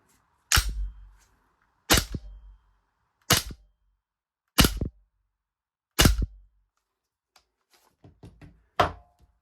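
Six sharp, loud pops from a Cybergun Desert Eagle 4.5mm CO2 air pistol, evenly spaced about a second and a half apart, with a short quiet stretch and a faint clatter before the last shot.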